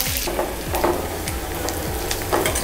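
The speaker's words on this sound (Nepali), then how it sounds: "यसमा चाहिँ हामीले अब ओनियन हालेर यसलाई सटे गर्छौँ है," Onions sautéing in hot oil with mustard seeds and curry leaves for a Kerala-style lamb curry, giving a steady close sizzle and crackle broken by repeated scraping stir strokes, with no talking.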